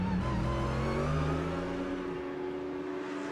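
An onboard DTM race car engine, Maxi Goetz's car qualifying at the Norisring, roars loud and close, holding a high revving whine that drops in pitch near the end.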